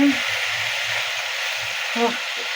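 Red amaranth greens frying with fish, tomatoes and small shrimp in a pan, giving a steady loud sizzling hiss with soft stirring knocks underneath and a brief scrape near the end.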